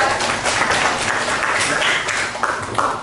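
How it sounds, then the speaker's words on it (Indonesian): A group claps in applause for a presenter in a classroom or online session, a fairly dense run of claps that swells and fades, with a few sharper hits toward the end. "Tepuk tangan dong untuk materi ya."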